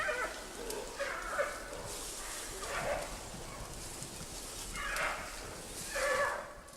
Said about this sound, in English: From the growls, it's obvious the males will have no energy left for fighting, as Lulu does with the females in Wulong.